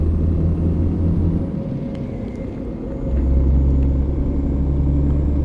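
Heavy truck engine in a truck driving simulator game, a loud steady low rumble that dips briefly then swells again as the rig rolls along, with no one talking.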